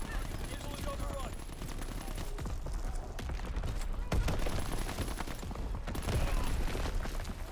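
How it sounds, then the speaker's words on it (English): Dense gunfire and heavy artillery rumble through a war video game battle, a constant close barrage of rapid shots and blasts under radio voices. "Firing division artillery"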